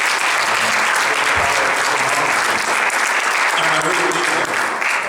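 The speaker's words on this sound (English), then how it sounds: "So let's give them applause for this." Audience applause for candidates at a Portsmouth, Virginia city council candidate forum, a loud, dense, continuous roar of clapping from a large crowd that holds steady from start to finish.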